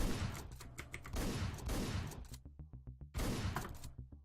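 Gunshots in the Hotline Miami video game: loud, dense bursts of shots in clusters, broken by a short run of sharp evenly spaced pops before another heavy burst, no talking.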